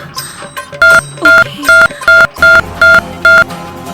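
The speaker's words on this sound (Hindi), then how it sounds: "अब मैं अभी उनको फोन करता हूँ" Touch-tone telephone dialing while placing a call: seven loud, evenly spaced DTMF beeps in steady rhythm, close and prominent, preceded by softer button handling sounds.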